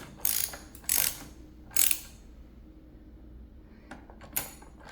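A wrench tightening a bolt on Honda motorcycle forks gives a few quiet, sharp ratcheting clicks in short bursts, then a pause and some fainter ticks.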